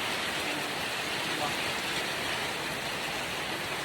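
Steady rain falls during a rainy-day trail run, a dense, even hiss of drops on surfaces that holds at moderate level throughout, with no clear talk.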